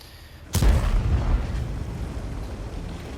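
A sudden heavy artillery shell explodes against an FV4201 Chieftain Proto tank in a World of Tanks-style battle, a single loud close boom followed by a long rolling rumble that slowly fades.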